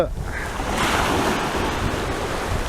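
Sea surf rolling onto a beach at Bodrum, a steady broad wash of breaking waves heard close with constant wind buffeting the microphone and no voices.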